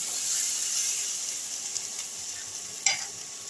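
Boiled potatoes are stir-fried with spices in a pan for potato dum, giving a steady close sizzle and scraping stir with a sharp clatter near the end.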